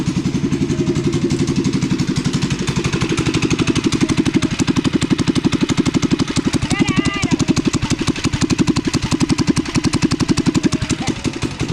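A go-kart engine runs at a steady idle, its close, loud, rapid, even putter holding throughout with only slight shifts in pitch.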